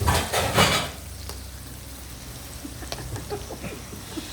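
Tomato choka is stirred and mixed in a pot, with a brief loud burst of scraping and clatter at the start, then quieter intermittent spoon scrapes and clinks against the pot.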